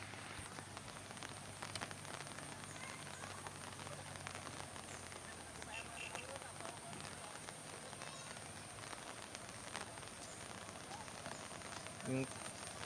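Steady rushing floodwater flows toward a river in Palawan after typhoon rain, running continuously at a low level, a diffuse wash with a spattering texture like rain, with no clear voices over it.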